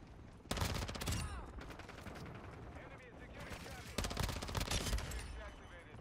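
Rapid automatic gunfire from a VEL 46 in a Call of Duty-style shooter comes in dense, loud bursts with overlapping shots and game noise, while a player talks over it.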